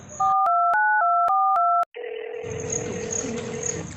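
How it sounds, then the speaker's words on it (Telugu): A telephone dial tone briefly, then six clear dialing tones in an even rhythm, a short pause, and a steady tone continuing with a faint background hum. "సోమవారం శ్రీకాంత్ వాళ్ళ ఫ్రెండ్కి కాల్ కలపండి."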